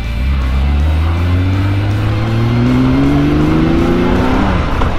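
A restored Honda CBX1000 motorcycle engine revs up loud and close on a test ride, its steady roar climbing smoothly in pitch as it accelerates.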